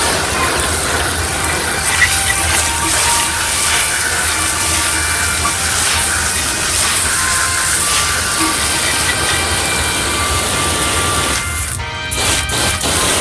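Water spray rinsing a car wheel outdoors, a steady broadband hiss that runs unbroken for the whole stretch, loud and close, with a brief break and some spattering near the end.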